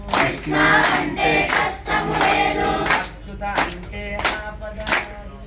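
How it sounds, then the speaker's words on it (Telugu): Hands clapping in rhythm during a devotional chant, sharp repeated claps in short bursts, fairly loud and close, with a few voices mixed in. "చప్పట్లు కొడుతూ"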